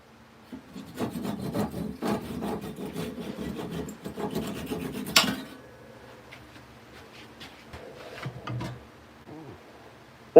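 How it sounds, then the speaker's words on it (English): A Harbor Freight hand saw cutting through a wooden mushroom, a steady rasping back-and-forth stroke for about five seconds, then quieter scraping and handling noises. "Bust out the Harbor Freight saw."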